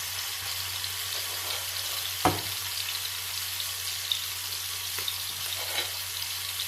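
Food fries steadily in a pan with a continuous sizzle and hiss, broken by a few sharp clinks and stirring knocks, and no one speaking.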